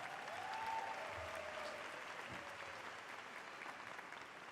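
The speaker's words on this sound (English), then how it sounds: "Let's give them a big round of applause at this time." A big round of applause from a high school graduation audience honoring the board of trustees, a broad wash of clapping heard at a distance, steady and sustained, with a faint thin tone drifting through early on.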